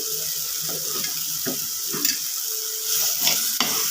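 Spoon scraping and stirring through a sizzling pan as coriander powder is mixed into prawn theeyal, a Kerala curry, with irregular clacks and shuffling over a bright frying hiss, no talking.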